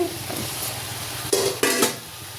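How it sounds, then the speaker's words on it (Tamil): Tomatoes are stirred into a pan for a mushroom, fish and soya chunk biryani, giving a soft sizzle with two louder scraping stirs near the end, close and alone. "தக்காளி சேர்த்து வதக்கிட்டுருவோம்"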